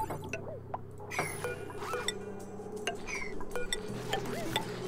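Construction in the colony game Oxygen Not Included as tiles are bricked in to seal a vacuum pantry: quick light clinks, chirps and pattering clicks scattered over a steady low hum, with no voices.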